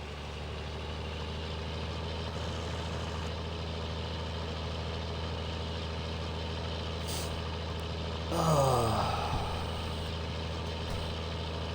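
A diesel tractor engine in the video game Farming Simulator 19 idles in a steady low drone, with a brief hissing, rising mechanical sweep partway through before the engine settles back to its even rumble.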